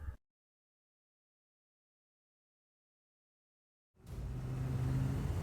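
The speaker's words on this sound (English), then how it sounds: "we were back at full throttle, accelerating down the runway at Lyon" A light aircraft engine at full throttle, accelerating down the runway at Lyon, swells in after several seconds of silence and builds into a loud, steady, rising drone to the end.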